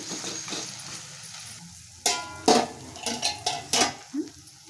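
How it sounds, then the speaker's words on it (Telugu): Cucumber curry with salt is stirred in a pan, quiet sizzling at first, then a run of about six sharp metal spoon scrapes and clinks against the pan, close and distinct. "సాల్ట్ వేసేసుకుందామండి మొత్తం తిప్పుకొని దోసకాయ మగ్గిన తర్వాతకి ఎగ్స్ వేసేసుకుందామండి"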